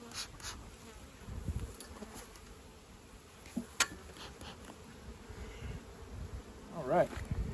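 Honeybees hum softly at an opened hive during a first spring inspection, a steady low insect drone with scattered faint clicks and knocks of handling throughout.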